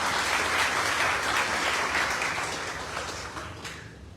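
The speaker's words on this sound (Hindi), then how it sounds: "तो इसके लिए आप सभी के लिए एक बार जोरदार तालियां बनती है" A crowd at a talk on debt relief in India breaks into loud, sustained applause, dense clapping that holds strong at first and then slowly tapers off toward the end.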